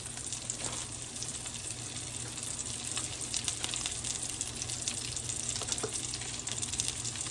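Hot fat sizzles steadily around a burger bun toasting in a pan on a stovetop, with small sharp pops scattered throughout at close range and no talking.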